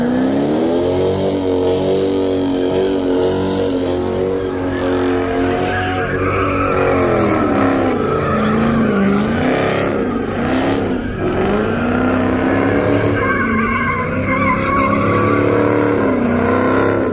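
A Dodge Challenger Scat Pack car doing burnouts: loud, sustained engine revving with rising and falling pitch under continuous tire squeal and skidding, close by.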